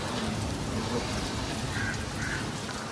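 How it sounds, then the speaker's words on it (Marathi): Heavy rain pours down steadily along a road near Damat, a dense continuous hiss that stays close and unbroken throughout, with no voices. "करंटली इथे खतरनाक पाऊस आलेला आहे."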